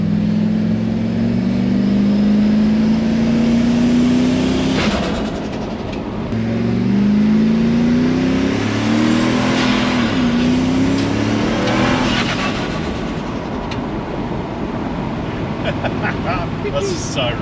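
A ute accelerating in first gear at part throttle, engine note climbing in repeated rising pulls, close and loud, with people talking over it.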